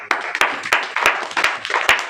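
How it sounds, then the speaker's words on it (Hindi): Congregation at a church sermon clapping loudly on cue, a close, irregular burst of sharp hand claps from a small group. "जोरदार ताली बजाओ।"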